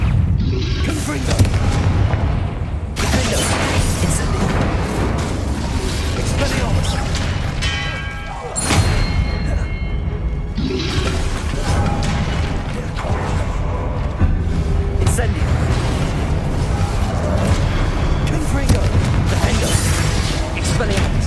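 Repeated fiery spell blasts from Confringo and Incendio in the Hogwarts Legacy video game: a dense, continuous barrage of booms and crackling bursts over a loud battle soundscape, with a brief lull midway before the explosions resume.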